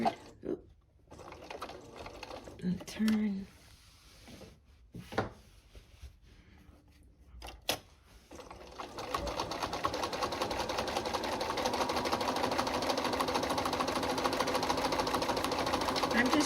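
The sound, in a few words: sewing machine stitching fabric for a picture frame flange border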